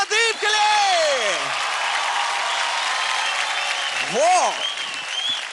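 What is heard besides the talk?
studio audience applause for Pradeep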